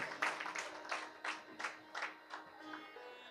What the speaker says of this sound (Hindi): उनके लिए भी आप बार ताली बजाकर स्वागत करेंगे